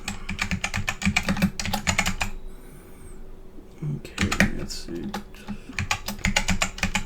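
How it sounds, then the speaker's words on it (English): Typing on a computer keyboard during a live stream, rapid clusters of close, crisp key clicks broken by a brief pause in which a person speaks briefly, then resuming steadily. "let me just type this real quick"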